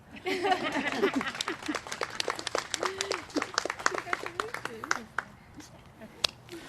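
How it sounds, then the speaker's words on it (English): Applause at a physical therapy assistant pinning ceremony, with scattered claps heard under a voice speaking loudly over them and a few sharp individual claps toward the end. "One more round of applause."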